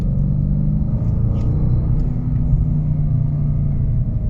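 A Jaguar XFR with a 510 hp supercharged V8 engine gives a deep, steady, loud rumble that holds evenly throughout, close by, with no talking.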